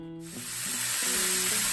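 Corned beef leftovers sizzle on a hot griddle, a steady broadband hiss that swells and holds for the full stretch, with some faint tonal clatter at the start and no talking.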